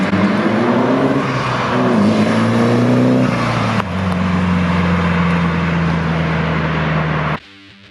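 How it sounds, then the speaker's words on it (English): A 1965 Datsun Fairlady roadster with an SR20DET engine runs close by, its note rising and dipping with throttle changes before cutting off abruptly at the end. "we have James's 1965 Datsun Fairlady running an SR20 DET"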